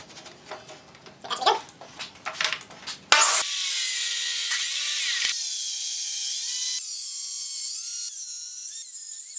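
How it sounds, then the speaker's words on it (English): A table saw trims the edge off a piece of firewood being squared up for knife scales: a few seconds of scraping and handling noise, then a loud, steady, high blade whine as the cut runs close by. "So the first few cuts that I make on the table saw"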